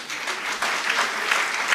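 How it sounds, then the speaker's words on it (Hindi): An audience claps together in a short burst of applause, a dense, steady patter of many hands at moderate distance. "ताली बजाओ अपने लिए।"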